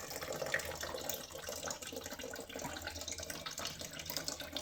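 Steady rush of water flushing through the cooling system of a Versys X 300 motorcycle during a coolant flush, a continuous faint splashing flow without pauses.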